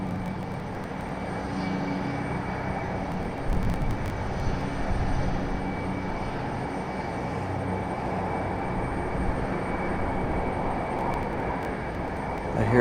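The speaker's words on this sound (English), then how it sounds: "I hear a helicopter flying over" A helicopter passes overhead near Raleigh Durham International Airport as a steady rumbling drone with faint rotor chop, moderately distant, under a broad wash of outdoor noise heard from a parked car.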